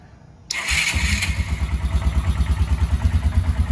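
A 2008 Kawasaki Bayou ATV with a new starter and carburetor cranks and catches, the engine starting abruptly and settling into a near, rhythmic lumpy idle.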